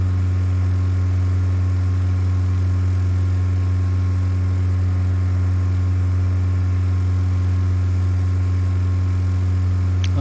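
A Long-EZ aircraft in Microsoft Flight Simulator 2020 holds a steady, loud engine drone with a strong low hum and stacked tones through the takeoff roll, unbroken and without voices.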